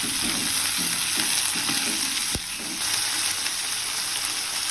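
Garlic, curry leaves and tomatoes fry in a hot pan for a vegetarian banana-flower kuzhambu, with a loud, continuous sizzling hiss, soft stirring scrapes and one sharp clack partway through.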